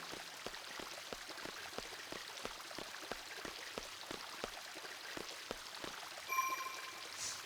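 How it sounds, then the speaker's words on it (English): A short looping stream of water from the Final Fantasy VIII video game runs steadily, a soft continuous trickle and patter with a faint repeating rhythm, quiet and alone. "Ah, the calming sounds of a 2-second water loop."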